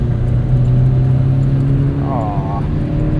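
2009 Chevrolet Cobalt SS with a 5-speed manual accelerating under turbo boost, a steady engine rumble heard from inside the car with a brief rising note near the end.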